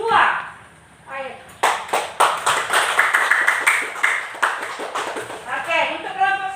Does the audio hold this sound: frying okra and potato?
no